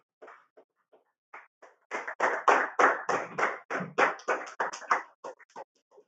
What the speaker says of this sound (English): give Mr. Aka a resounding round of applause for a wonderful lecture